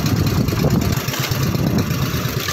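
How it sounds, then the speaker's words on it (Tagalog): A fishing boat's engine runs loudly and steadily at sea, a dense low rumble that holds throughout with no talk. "Nagagalit yung makina."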